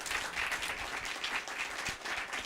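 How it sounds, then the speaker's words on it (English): Audience applause at a school project-based learning event, a steady crowd of clapping hands filling the room at a fairly even level throughout, with no voices over it. "Let's get these guys a round of applause."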